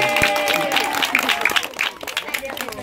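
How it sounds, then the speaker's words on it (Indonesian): Children at a birthday party with clowns clap for a boy named Ari, a short burst of scattered, uneven claps under lively talking and chatter that soon takes over. "tepuk tangan buat Ari"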